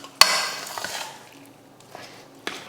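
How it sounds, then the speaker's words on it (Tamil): A ladle mashes cooked rice and lentils for venn pongal in a pot, giving a sharp scrape at the start followed by soft, wet squishing and light clinks that fade, with another knock near the end. "இந்த மாதிரி கரண்டியை வச்சு இந்த மாதிரி மசிச்சு விட்டுறணும்"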